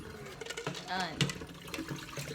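Balut eggs being washed under running water, a steady splashing rush with someone talking over it.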